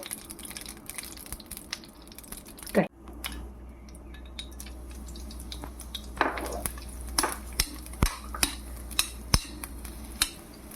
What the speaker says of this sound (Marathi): तुपामध्ये छान ब्रेडचे तुकडे तळून घेऊया